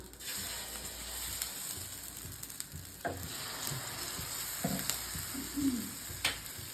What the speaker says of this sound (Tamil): வாங்க வாங்க தோசை ஊற்றலாம்